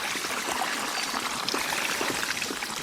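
Bicycle fitted with mudguards riding through fairly deep water on a road, giving a steady, close rushing and splashing wash with no talk.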